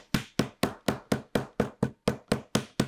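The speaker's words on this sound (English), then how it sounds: "Hammer it down." Steady hammer blows on folded, glued wet leather of a holster being assembled, about a dozen sharp, evenly spaced taps close by with no talk.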